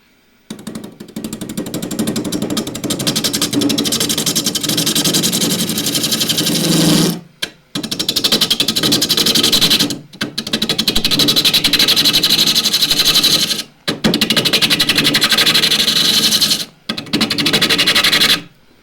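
A bowl gouge takes pull cuts while shaping a bowl profile on a wood lathe, a loud continuous rasping, buzzing shear broken by several short pauses as the tool lifts off and re-engages.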